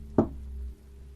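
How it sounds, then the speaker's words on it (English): A single sharp knock on a front door in the middle of the night, close and distinct against a low quiet hum. "The knocking sound came from the front door."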